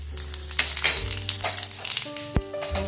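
Chili flakes and cumin seeds dropped into a spoonful of hot oil, giving a brief, close sizzle mixed with clinks and handling noises over a low hum.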